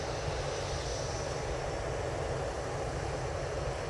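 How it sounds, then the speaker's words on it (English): A TUI Boeing 737 MAX jet departs Manchester Airport, its engines giving a steady, loud broadband roar with a deep rumble that holds constant and close throughout, with no voices. "And then we also have a TUI 737 MAX off to Funchal."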